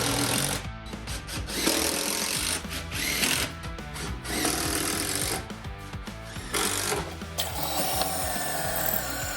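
A power drill bores pocket holes into wooden workbench framing in a run of short, close bursts separated by quick gaps, a whining motor with chattering bit noise and no voices.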